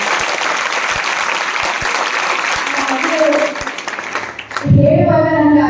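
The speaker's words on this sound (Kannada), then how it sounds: "ಒಂದು ಜೋರಾದ ಚಪ್ಪಾಳೆ" An audience at a children's group event gives loud, sustained applause with dense clapping. It thins out near the end as a voice starts speaking.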